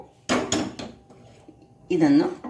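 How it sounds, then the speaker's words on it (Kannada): A pan is set down on a kitchen stove, making a few quick metallic clatters and knocks up close, followed by a short stretch of speech. "ಈಗ ಇದರಲ್ಲಿಯೇ ನಾವು ಒಂದು ಪ್ಯಾನನ್ನು ಇಟ್ಕೊಳ್ಳೋಣ"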